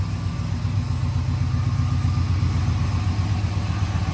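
A car engine idles steadily and close by, its exhaust run all the way to the rear, giving a low, even rumble that holds constant throughout with no talking.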